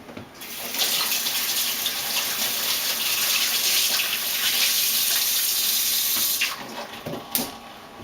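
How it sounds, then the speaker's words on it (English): Hands washed under a running kitchen tap during challah baking, a steady close gush of water for about six seconds that then cuts off, leaving a few drips and small knocks; no talking. "Now I'm going to wash my hands now."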